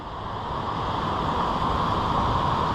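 Chasm Falls, a waterfall in Tasmania, gives off a steady broadband rushing roar, constant and fairly close, with no voices over it.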